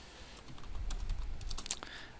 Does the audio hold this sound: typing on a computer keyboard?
yes